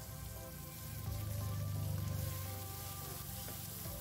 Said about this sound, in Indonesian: ini kita tumis terlebih dahulu bumbu halusnya dan bumbu pelengkapnya